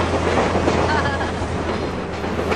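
An excursion train rolls along a rail line through a redwood forest between Fort Bragg and North Spur, a dense, continuous rumble of wheels and carriages heard from on board with a faint squeal.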